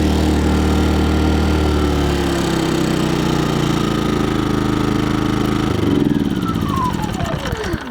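A Cromtech 2.4kVA inverter generator runs steadily with a loud, close, even engine drone, then throttles down near the end, its pitch sliding lower as the engine settles to a slower idle.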